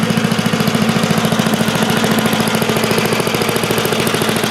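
A 1972 Ecology Products Hired Hand leaf blower with a 5hp engine idles close up, a loud, rapid, evenly pulsing chug that holds steady from start to finish with no talking.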